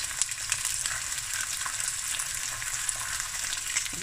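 Meat chops fry in a pan with a steady, dense sizzle and crackle, a close continuous hiss broken by small pops, no voices.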